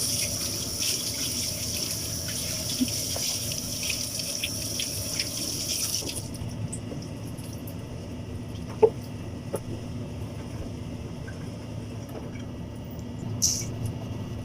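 Tap water runs steadily over two beef steaks being washed in a sink, a constant close splashing gush that quiets partway through and continues as a softer trickle with a few small clinks.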